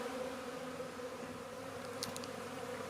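Honeybees from a small nucleus hive buzzing in a steady, even drone, low and continuous, with a few faint higher clicks near the end.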